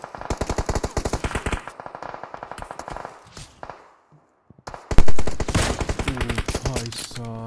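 An M4 rifle fires in a shooter video game: rapid, loud automatic bursts for about three seconds, a short lull, then another sharp burst and echoing shots.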